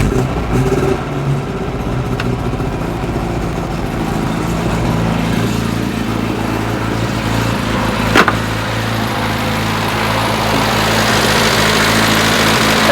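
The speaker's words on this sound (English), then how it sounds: "So let's try to fire the engine up and see if it runs this time." An Austin Cooper S engine rumbles steadily at close range after starting, idling with a rough, low drone throughout and a brief sharp click partway through.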